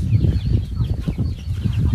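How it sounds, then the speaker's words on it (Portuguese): Several farm chickens cluck continuously and fairly near, their short, overlapping calls running over a low background rumble with no one speaking. "Olha aí os frangos."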